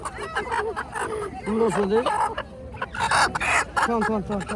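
Chickens cluck and squawk close by at a morning riverside village market in Bangladesh, sold as fresh local char poultry, with busy calls repeating throughout over market voices.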